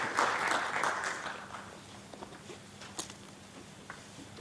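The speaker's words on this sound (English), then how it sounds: "Let us give His Excellency Dr. Arkhom Ter Pitayapaisit a round of applause." Applause at a transport committee session swells briefly, then thins out to a few scattered claps, moderately loud, with faint room noise beneath.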